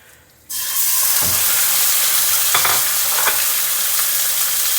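Ground beef browning in a hot pan breaks into a loud, steady sizzle after a brief quiet start, with a few scrapes as it is moved around, and no talking.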